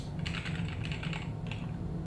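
A computer keyboard connected over a 60 m extender is typed on briskly, with rapid close clicking keystrokes in quick bursts, no voices present.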